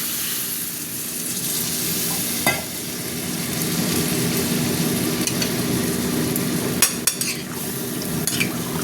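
Spices are sautéed in a wok for an egg curry with cauliflower, making a loud, continuous sizzle under repeated stirring scrapes, with metallic clinks from the spoon against the pan near the end.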